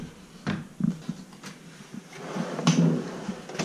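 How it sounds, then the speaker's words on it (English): A chest of drawers in a rented apartment bedroom is opened and closed, with several soft wooden knocks and sliding scrapes in a quiet room, with no talking. "Showing you what's in the chest of drawers."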